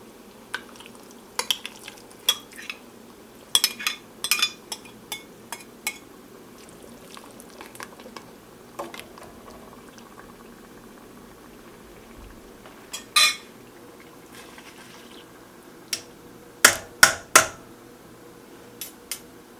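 Pumpkin puree, drained red lentils and water going into a pot for soup, heard as scattered clinks of utensils against cookware and soft sloshing, intermittent and fairly close, with no talking.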